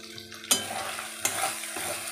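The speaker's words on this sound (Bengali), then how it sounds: "এবারে মশলাটা খুব ভালো মতন কষিয়ে নেব যতক্ষণ না মশলা থেকে তেল ছাড়ছে" Spice paste frying in oil and stirred until the oil separates, for a Bengali rupchanda fish curry: a constant sizzle with three sharp scraping strokes of a spoon against the pan, close and with no voices.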